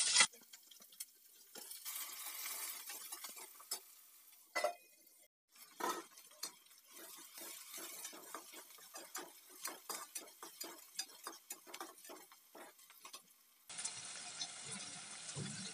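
Green chilli, onion and garlic tipped into a pan with fried chana and urad dal, then stirred, giving faint clinks and scrapes of a spoon on the pan in an irregular rhythm, with no talking.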